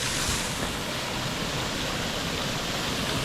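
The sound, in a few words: large water fountain spraying in Plovdiv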